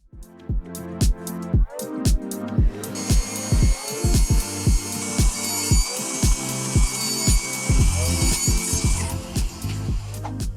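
A power saw cuts wood into small 1 3/4 inch squares for a chessboard, with rapid rhythmic cutting strokes and whining blade tones, loud and close, with no voices.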